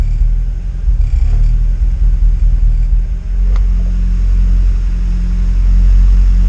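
A turbocharged Honda Type R engine, running rich, idles and warms up: a deep, steady, loud rumble that dips briefly near the middle, then settles back into an even drone.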